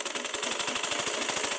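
A sewing machine runs steadily while stitching lace onto a blouse, its rapid, even needle clatter repeating in a tight rhythm, close and alone.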